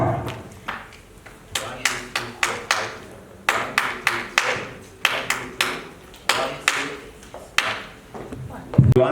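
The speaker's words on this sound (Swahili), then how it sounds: "nataka mjipigie makofi kwa kuja hapa" An audience claps in unison for itself, a run of sharp rhythmic claps in short counted bursts with pauses between, close and fairly loud, with faint voices murmuring underneath.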